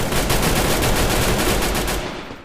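Rapid gunfire in the Free Fire battle royale game, a dense continuous burst of shots lasting a couple of seconds, loud and close before cutting off.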